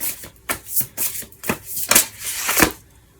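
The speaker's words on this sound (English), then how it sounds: "So I'm going to pull the oracles and I'm going to pull the tarot on top." Oracle and tarot cards are shuffled up close, giving a series of crisp papery riffling bursts in an uneven rhythm that stops toward the end.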